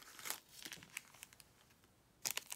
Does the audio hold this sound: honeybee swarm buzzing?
no